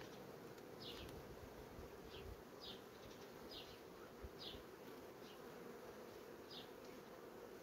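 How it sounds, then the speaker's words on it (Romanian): Honeybees buzz close by around a syrup frame in a hive in a steady drone, with individual bees whirring past in brief repeated passes over a low rumble. "Albina va circula peste tot."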